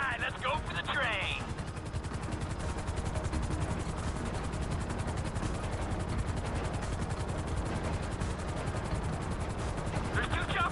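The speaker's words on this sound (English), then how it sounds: "There's two choppers coming toward my train!" Helicopters approaching in GTA 5, with a steady loud rotor drone filling the scene for the whole stretch, mixed with game noise and dense background sound.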